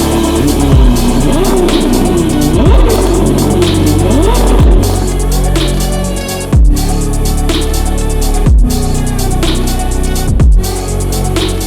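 A Novitec-tuned Ferrari 812 Competizione with 866 hp and a new exhaust system, revving hard in loud repeated bursts, each rising pull cut off sharply before the next, close and dominant.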